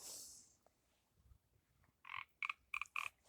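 Frog croaking in a short series of four or five loud, close calls coming in quick succession near the end, after a quiet stretch with a brief faint sound at the start.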